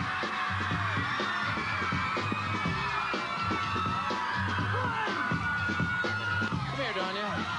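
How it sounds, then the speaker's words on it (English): A crowd cheering and whooping for a local girl contestant on a dating show, a steady roar of shouts and excited voices with little distinct clapping, held at an even level throughout. "Let's have a round of applause for a local girl"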